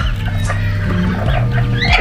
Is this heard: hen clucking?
yes